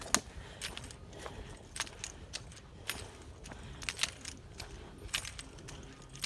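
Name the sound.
keys jangling on a belt loop while walking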